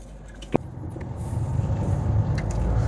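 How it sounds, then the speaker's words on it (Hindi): A Ford Figo petrol hatchback, about 15 years old with over 100,000 km, is driven hard in first gear, its engine a steady rising drone with a brief knock near the start and no talk. "So now first gear, driving hard."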